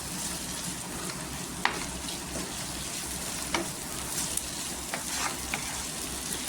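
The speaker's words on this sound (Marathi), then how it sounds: "इथे तेलावर परतून घ्यायचं." Tomatoes, green chilies and onion sauté in hot oil for a spicy rassa, giving a steady close sizzle with a few sharp clicks from stirring and no talking.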